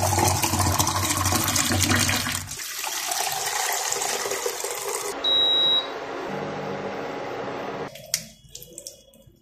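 Hot tap water runs steadily while a beard is washed in the morning, a loud continuous splash that shifts in tone partway through and cuts off near the end, leaving faint drips and clicks.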